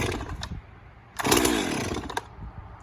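A chainsaw is pull-started on full choke: a short rattling first tug, then a second pull that briefly catches with a quick burst of engine sound before dying, close by and fairly quiet.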